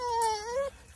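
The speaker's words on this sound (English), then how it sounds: "That's our dog right here." Dog whimpering close by in the early morning, a single high, drawn-out whining moan that slides downward in pitch, then fades.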